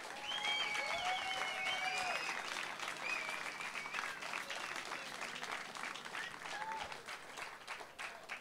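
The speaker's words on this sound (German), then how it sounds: "Und dafür bitte ich um einen kräftigen Applaus." An outdoor crowd at the Hanfparade cannabis rally in Munich breaks into applause, with a few sharp whistles rising and bending above the clapping early on before it settles into a thinner, fading patter; heard from a distance and fairly faint.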